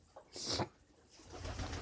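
A pet bird coos softly in a short, faint call close by, followed by a low rustle.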